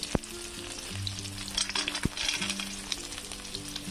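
Peanuts frying in a small amount of oil give a steady close sizzle with occasional sharp pops and stirring scrapes, with no talking.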